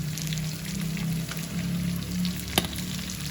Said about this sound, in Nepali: प्याज पकाउने